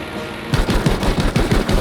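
Rapid bursts of 20mm cannon fire from an F4U-1A Corsair strafing a trench in Battlefield V, loud and close, starting abruptly after a brief quiet moment and pounding in a fast repeating rhythm.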